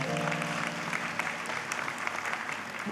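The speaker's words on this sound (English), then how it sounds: "Please give them a round of applause" At a university consecration service for workers and new students, the audience gives a round of applause for standing freshmen. The clapping is full and continuous, with a faint tonal hum early on.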